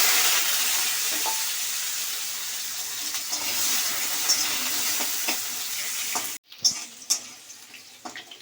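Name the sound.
potato pieces frying in a pan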